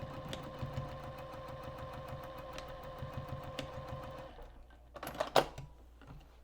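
A sewing machine stitches pieced quilt fabric in a steady, rapid mechanical chatter for about four seconds, then stops, leaving a few faint handling clicks and a brief knock.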